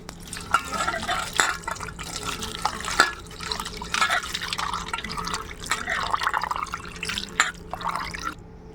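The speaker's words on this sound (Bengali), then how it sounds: "এবার জল দিয়ে দেব" Water poured over tamarind pulp and black salt for a fuchka sour-water mix, a steady close splashing and dripping stream with scattered drip accents, running continuously before stopping near the end.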